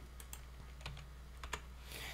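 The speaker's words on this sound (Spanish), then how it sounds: "Vamos a presionar la tecla C en el teclado" Computer keyboard keys are pressed in a few sparse, separate clicks against a quiet background hum, close and fairly faint.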